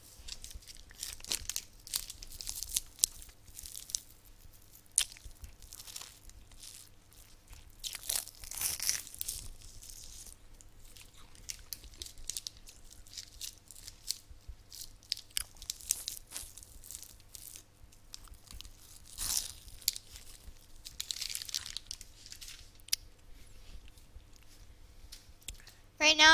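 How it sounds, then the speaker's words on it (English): Crinkling plastic wrapper and crunchy biting and chewing of a plastic-tube ice popsicle, close and fairly quiet, in irregular bursts throughout, with faint background sound. "Right now I'm eating like one of those plastic ice popsicles, if you're wondering what that noise is."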